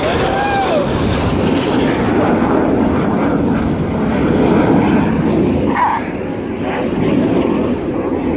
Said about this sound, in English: These 4 jets are now descending to just 100 feet.